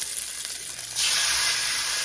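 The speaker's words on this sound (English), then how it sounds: "The chicken should sizzle when I put it in there." A steady hiss of frying jumps louder halfway through as chicken hits a hot cast iron pan, then keeps sizzling strongly without any talking.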